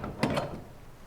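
A door in a Game of Thrones scene, heard as two quick wooden clunks close together near the start, fairly close and moderately loud, then a quiet fade with no voices.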